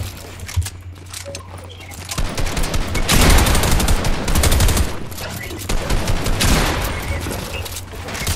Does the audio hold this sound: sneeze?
no